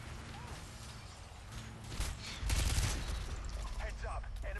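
Gunshots from the PC video game Call of Duty: Modern Warfare 2, scattered shots and mechanical clatter that swell into a louder burst midway, with game noise throughout.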